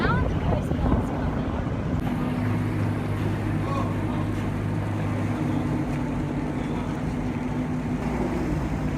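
Motorboat engine drones steadily at sea as a Coast Guard boat arrives during a rescue of a woman who fell from a passenger ship, mixed with wind buffeting and water noise, with someone talking over it.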